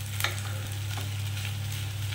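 A spatula stirring food through hot oil in a pan, giving a steady sizzle with soft scraping strokes and a faint low hum underneath, no voices.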